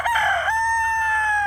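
A rooster crows close and loud, one sustained cock-a-doodle-doo that rises then holds a long tonal note, among a flock of European breed chickens including a Lakenvelder hen.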